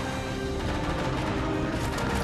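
Dense, continuous rattling gunfire from the video game Operation Raccoon City fills the clip, loud and steady throughout with no voices.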